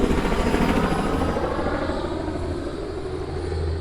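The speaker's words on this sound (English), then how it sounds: "watch out for low-flying helicopters when you're at this museum" A low-flying helicopter passes overhead near a military history museum in Kissimmee, its steady rotor thump and engine roar loud and constant, slowly easing as it moves off.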